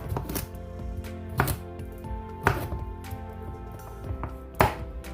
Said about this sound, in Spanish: Les vas a quitar las hojitas y vas a cortar.